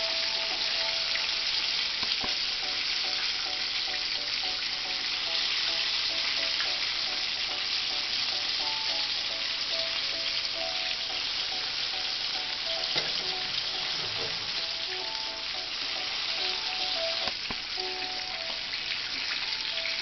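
Chicken sizzles and crackles steadily in hot oil while deep-frying, a constant dense hiss with scattered pops, close and continuous for the whole stretch.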